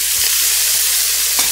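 Meat dropped into a very hot pan sets off a loud, close, steady sizzle that stays constant throughout, with a faint knock near the end.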